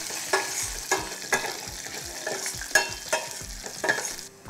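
Lentils, garlic and dry red chillies fry in a pan for rasam, a steady sizzle punctuated by repeated scraping stirs at close range, with no voices.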